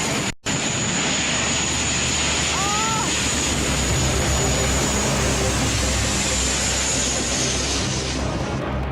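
Jet aircraft roaring over the open sea during a rescue, a loud continuous engine rush with a thin high whine, blended with ocean noise for the whole stretch.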